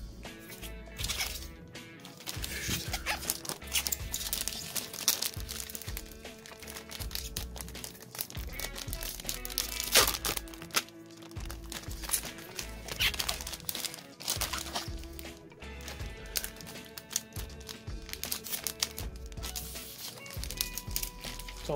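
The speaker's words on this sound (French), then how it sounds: "Il reste encore seulement 3 boosters géants à ouvrir." Pokémon Sword & Shield jumbo booster card pack wrappers being torn open and crinkled, a continuous dense rustle of crackling foil and paper close up.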